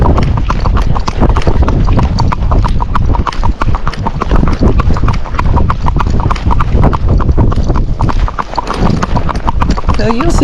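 Hooves of a gaited Rocky Mountain horse beat out a fast, continuous clip-clop while trotting and slipping into a canter, loud and close with wind buffeting, and a rider talks over the rhythm.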